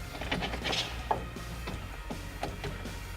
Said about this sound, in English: we're going to tighten the bolts on the coupling